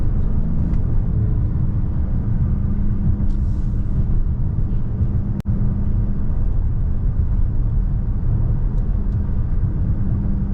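Dodge Charger Scat Pack Widebody pulls hard from inside the cabin, a loud, dense engine roar and road rumble throughout with a brief break mid-pull like a quick upshift.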